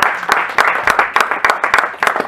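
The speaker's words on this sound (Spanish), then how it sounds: "Un aplauso para Latinoamérica" Crowd at a solidarity gathering for the Mapuche people in Oslo breaks into applause, a steady close patter of many hands clapping with sharp individual claps standing out.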